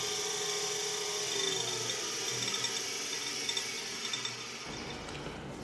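A tool post grinder mounted on a lathe grinds steadily with a continuous high whine and gritty hiss, close and even, with a few faint clicks before the grinding tone drops away near the end.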